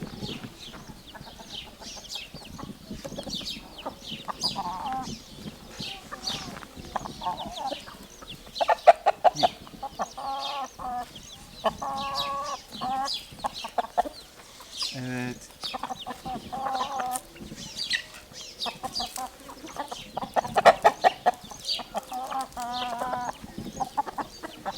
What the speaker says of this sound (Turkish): Çağır tavukları.